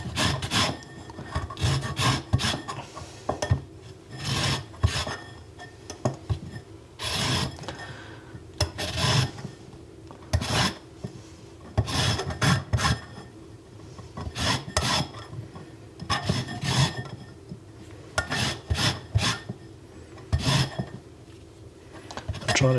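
A handheld zester rasp scrapes across lemon skin in repeated short strokes, a steady rhythm of dry, gritty rasping bursts separated by brief pauses, close and fairly loud.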